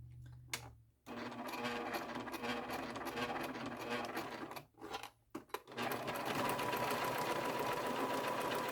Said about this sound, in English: go ahead and stitch around the crescent moon